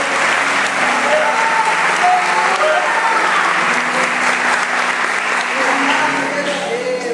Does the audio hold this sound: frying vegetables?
no